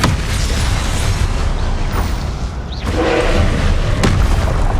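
A Confringo blasting spell from Hogwarts Legacy, a loud booming burst with a rumbling tail amid dense combat noise, with further thuds a moment later.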